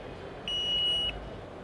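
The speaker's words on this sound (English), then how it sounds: "it beeps at you to let you know it's about to do that" A car's tailgate gives a single steady electronic warning beep as it opens by key fob. The tone is sustained for about half a second over a quiet background, with no talking.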